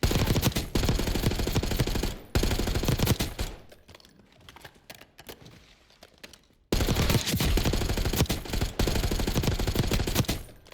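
Rapid gunfire at targets in Call of Duty: Black Ops 6, loud bursts of automatic fire that stop for a few seconds of near quiet, then another sustained burst resumes.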